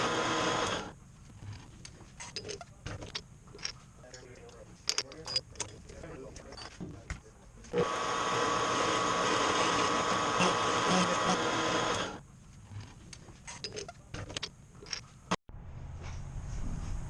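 A machine cuts small wheel inserts held in a collet, producing a steady mechanical whir that runs for several seconds, with intermittent clicks and knocks around it and a short break near the end.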